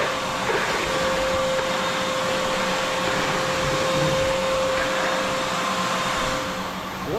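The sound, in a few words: vacuum sucking up slushy melted snow in garage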